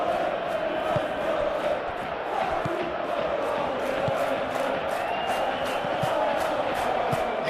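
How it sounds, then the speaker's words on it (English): Stadium crowd in the Football Life 26 video game roars as a steady, dense wall of cheering and chanting, loud and continuous throughout with no single voice standing out. "We have a hugely expectant crowd here"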